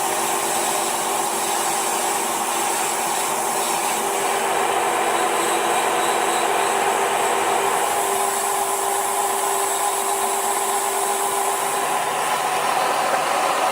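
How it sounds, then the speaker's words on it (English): A powerful grinder runs steadily and loudly for the whole stretch, a dense whining roar with a constant tone and no pauses. "this grinder is way more powerful"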